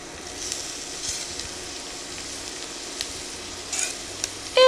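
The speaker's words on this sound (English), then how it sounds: "I'm gonna go ahead and add a little bit of canola oil to that pot. And I've got here, I'm gonna go ahead and add my onions and garlic." Onions and garlic sizzle in canola oil in a pot, a steady close hiss running throughout with a few faint clinks and a sharper sound at the very end.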